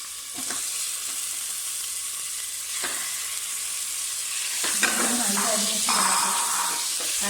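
Chicken pieces hit hot oil in a pot along with spice paste and a bay leaf, setting off a loud, steady sizzle. Stirring scrapes and bursts of hissing steam break through the frying.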